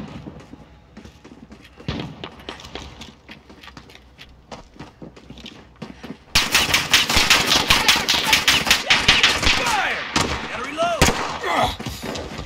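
Rapid gunfire in the shooter game Infected: sparse cracking shots at first, then a sudden loud burst of sustained automatic fire with dense overlapping rounds, close and intense, with voices calling out beneath it.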